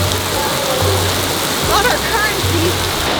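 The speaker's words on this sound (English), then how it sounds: "It just started dumping rain." Heavy rain pours down outdoors in Venice as a steady, dense hiss filling the whole clip, with a person talking briefly over it.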